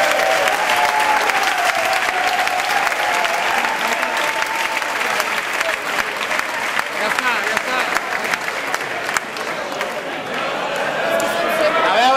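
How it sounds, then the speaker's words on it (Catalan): A large crowd at a Capgrossos de Mataró gathering applauds loudly and continuously for a long stretch, dense and close, with a voice briefly audible early on. "us foteu a vosaltres mateixos l'aplaudiment que us mereixeu"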